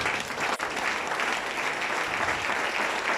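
A church congregation applauds in a dense, steady burst of clapping that fills the whole stretch, loud and close, with no talking over it.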